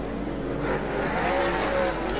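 Super sedan race cars, big bangers, roar around a speedway at night before a crowd, a continuous loud engine drone with a rising and falling pitch as the cars circle.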